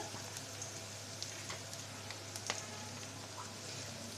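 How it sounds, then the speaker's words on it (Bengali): Onions and chilies frying in a pan for a restaurant-style dried loitta fish dish, giving a steady, soft sizzle throughout with occasional small pops and crackles. "বন্ধুরা পেঁয়াজ মরিচটা একটু ভেজে নিচ্ছি কালারটা একটু চেঞ্জ হয়ে আসছে"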